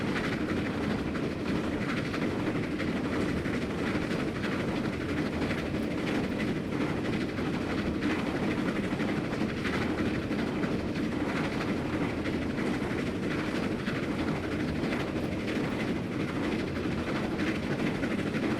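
A steam train in Train Simulator 2015 rolls along with steady rhythmic clickety-clack of wheels over rail joints and a constant mechanical rumble, even and unbroken.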